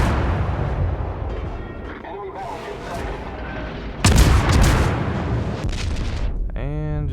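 A heavy naval shell hit from the Soviet cruiser Chapaev lands in World of Warships: a sudden loud boom bursts over steady battle rumble and crackle midway, then fades into continuing background noise.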